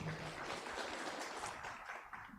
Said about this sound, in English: Please, let's give a round of applause.